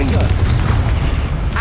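A booming Confringo fire-spell blast from the Hogwarts Legacy video game, one short, loud, dense low rumble filling the moment with faint voice traces over it.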